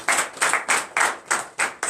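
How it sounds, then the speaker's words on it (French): A church congregation at a morning prayer service in Comè, Benin, claps in a fast, even rhythm, roughly seven sharp claps in under two seconds, loud and close. "Donnez l'acclamation à Jésus."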